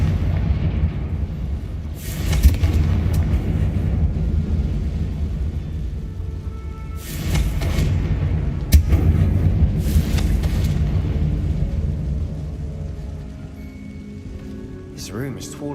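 Blasting spell explosions in the Hogwarts Legacy game rumble inside a tomb, with deep booming bursts around two, seven and nine seconds over a low continuous rumble, each swelling and fading.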